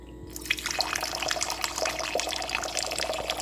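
A steady stream of water pours and splashes into a container from a Zojirushi CV-DCC50 hybrid water boiler set to slow pour, a continuous trickling gush with small bubbling notes.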